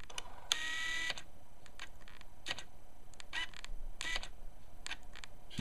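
A Tamron 17-50mm lens autofocus motor whirs and buzzes in short repeated bursts, some brief and some longer, close-up against a quiet background with no talking.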